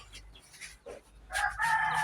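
A rooster crows loudly nearby near the end, after a few quieter rustles and faint background sounds.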